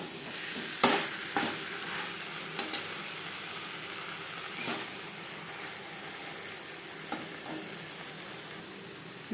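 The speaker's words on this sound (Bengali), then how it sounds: "চিকেনের সাথে আলু বেশ ভালো করে মিক্স করে দেবো।" Potatoes are stirred into frying chicken for an aloo chicken curry: a constant close sizzle broken by scraping spoon strokes and clatters against the pan, with no voices.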